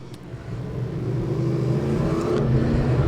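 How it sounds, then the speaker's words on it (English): A McGee Toyota Camry pace car driving around the Claremont Motorsports Park race track, its engine note building steadily with a smooth rising whir and revving as it accelerates, heard alone at moderate distance. "McGee Toyota and their Camry pace car out right now"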